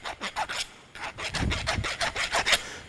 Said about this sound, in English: So I'm just going to use a file. Just remove that burr sticking out there.